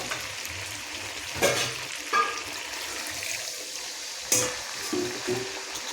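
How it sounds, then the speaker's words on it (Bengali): Water goes into mutton curry frying in a kadai, a steady sizzle and bubbling with a few sharper splashes and stirring scrapes, close and moderately loud. "তো এরপর এখানে দিয়ে দেব পরিমাণ মতন জল"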